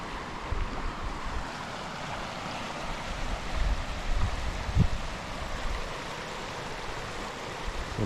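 The North Fork of the Nooksack River rushes in a constant broad roar, with low wind buffeting over it at a moderate level and no talking.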